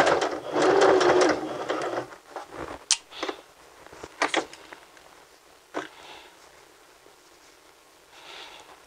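A sewing machine runs a zigzag stitch across fabric during a sewing lesson, a steady loud whir for about two seconds, then short stop-start bursts with quiet gaps between them.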